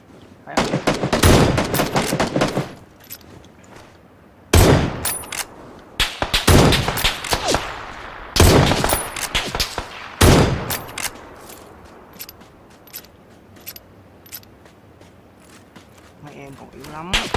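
Video game gunfire comes in loud, close, rapid bursts separated by short gaps, then fades to softer scattered shots and rattling toward the end, with voices talking underneath.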